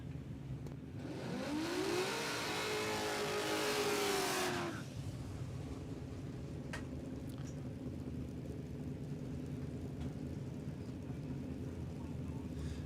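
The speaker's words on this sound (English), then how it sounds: "And we've got Damien Hannigan lining up in this red VN Commodore." A red VN Commodore at a no-prep drag strip with a loud engine roar that rises and then cuts off abruptly after a few seconds, followed by a low idling rumble and distant track ambience.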